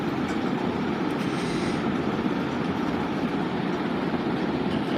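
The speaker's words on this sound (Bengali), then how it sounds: "ট্রেনটা যাচ্ছে বেঁকা হয়ে, আর এখানে লাইনটা পুরো বেঁকা হয়ে রয়েছে" A train travels along a curving mountain railway near Dudhsagar, producing a steady, moderately loud rumble and clatter of wheels on track, continuous and without talk.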